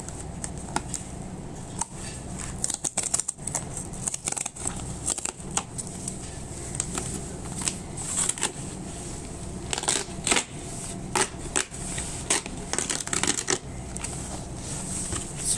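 Cardboard shipping box holding a shipment of Okinawan cream wafers being opened by hand: repeated crinkling, scraping and tearing rustles with sharp snaps, close and continuous, with no voice over it.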